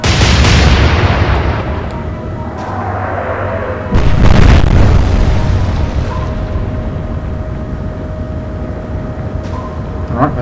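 Warship guns fire a heavy salvo in the Atlantic Fleet naval video game, loud rumbling booms with a second blast around mid-clip, then a long fading roll of distant thunder and game ambience.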